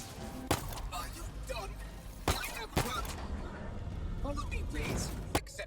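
Gunfire from a weapon in Halo Infinite, a few loud sharp shots cracking out at irregular intervals between stretches of steady game noise, with someone talking over most of it.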